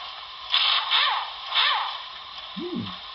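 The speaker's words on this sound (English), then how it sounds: "Industrial sounds, F-20." A few short bursts of tinny mechanical clanking and hissing from a small speaker in a Broadway Limited NYC Commodore Vanderbilt Hudson model steam locomotive (Paragon4 sound), followed by a brief low rising-and-falling tone near the end.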